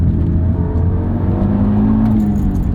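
A 2013 Audi TT RS turbocharged five-cylinder engine drones loudly and steadily from close by, a continuous low rumble with a faint rising note toward the end.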